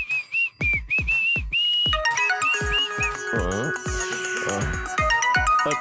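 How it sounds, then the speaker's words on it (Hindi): An electronic phone ringtone plays a bright repeating melody, first as a simple looping tune, then joined by layered synth tones, loud and close. "ये सुब्बा राव ना फोन करके मुझे परेशान कर रहा है।"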